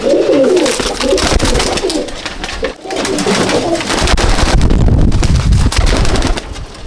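Young pigeons in a loft at Icchapur, North 24 Parganas, coo loudly and close, their layered throaty calls overlapping with wing flutters and scuffling noise throughout.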